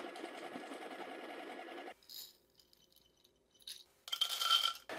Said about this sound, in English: Turn your grinder on and grind all the tablets thoroughly.